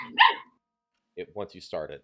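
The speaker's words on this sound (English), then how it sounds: "yeah, there's a dog" A pet dog barks a few sharp times at close range, with someone speaking briefly after a short pause.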